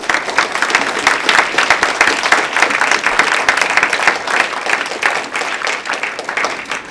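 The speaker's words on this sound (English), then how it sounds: "Let's just give the panelists a round of applause." A room audience at a community forum on Ontario's democracy gives the panelists a round of applause, loud, dense clapping sustained for several seconds and easing slightly near the end.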